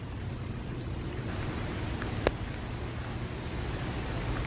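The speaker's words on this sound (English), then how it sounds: "I'll let you listen to the rain here." Steady rain hiss on a Chicago city street at night, with a low rumbling background, continuous and even throughout, with one brief sharp tap partway through.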